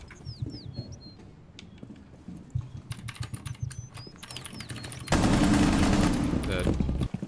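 Gunfire in the tactical shooter Rainbow Six Siege, with scattered shots and clicks giving way to a dense sustained burst near the end, amid game sounds and some squeaky effects.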